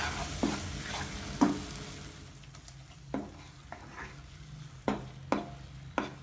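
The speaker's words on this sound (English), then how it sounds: "Saute for a few minutes until the raw smell goes out." Ingredients for paneer butter masala sautéing in a pan, with a soft steady sizzle under intermittent scraping stirs and light utensil knocks against the pan, fairly quiet and close, no voices.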